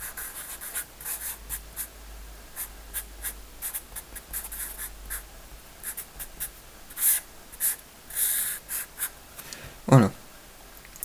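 A marker scratches across a sheet of paper while drone wiring connections are sketched out, with short scratchy strokes that grow louder and denser toward the end, including one sharp squeaky stroke near the close.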